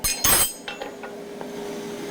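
A hammer strikes a creaser fuller tool at a farrier's forge, with one loud ringing metallic blow followed by a few lighter, fading taps.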